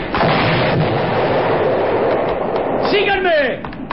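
A loud, sustained blast of booming cannon fire fills the scene amid shouting voices, with a whistling, sweeping tone near the end.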